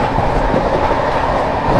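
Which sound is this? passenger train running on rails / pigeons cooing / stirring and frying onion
passenger train running on rails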